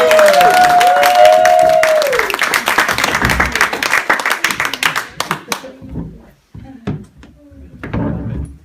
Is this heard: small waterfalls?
no